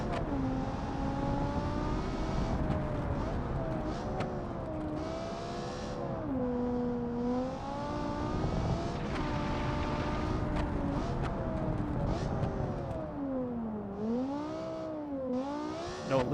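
A car engine revs and holds steady tones as it works around a tight track corner, pitch rising and falling with throttle, continuous and fairly loud with no talking.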